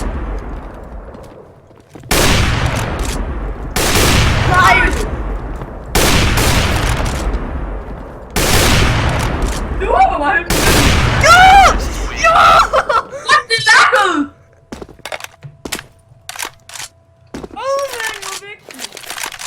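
Loud gunfire from a one-on-one shooter video game, several heavy blasts and bursts in quick succession, with children talking and laughing excitedly over and between the shots.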